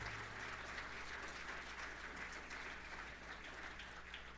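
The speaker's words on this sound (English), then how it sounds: "a round of applause for the 2022 Hofstra Athletics Hall of Fame" Steady, dense applause rises from the crowd at the 2022 Hofstra Athletics Hall of Fame induction ceremony, continuous clapping heard at a distance for several seconds without talk.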